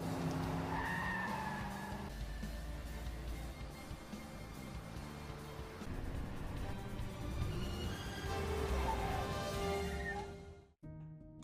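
Skidding tires and a racing car engine from a film car chase as a car is forced to brake to a stop, loud and continuous with squealing rubber throughout, ending in a sudden cutoff near the end.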